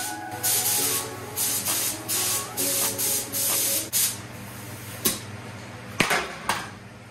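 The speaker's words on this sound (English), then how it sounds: "This gun is spraying like complete dog shit." A spray gun hisses in long bursts as paint is sprayed on a lowrider show car. It is loud and close, with several sustained sprays followed by short, sharp puffs near the end.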